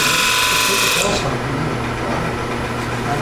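A woodturning lathe spins a two-piece hollow form while a tool shear-scrapes it at a demonstration, giving a loud, continuous, close grinding whir with a brief higher scraping edge at the start.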